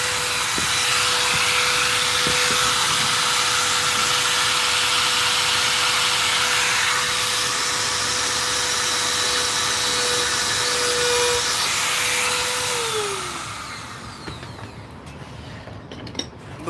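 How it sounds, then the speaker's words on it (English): A small Dremel rotary tool grinds along burned-in lines on a wood piece, a steady high whine with a thin sustained tone held for about thirteen seconds before it spins down and fades to quiet. "I'm going to come back and hit it with this little Dremel"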